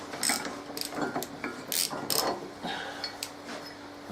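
Metal clamps being wrenched off an anvil stump, a series of close ratcheting clicks and clanks in short uneven bursts with pauses between.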